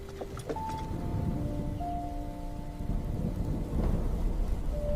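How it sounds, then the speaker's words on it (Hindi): Heavy rain hisses steadily on a lonely road at night, and low thunder rumbles and rolls underneath. A few thin tonal notes drift in over the downpour, with no speech. "क्योंकि सफर लंबा था और बारिश लगातार बढ़ रही थी।"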